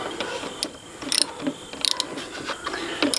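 Wrench ratcheting while snugging the battery terminal bolts on a riding mower, a series of short close metallic clicks in brief bursts, with no voices.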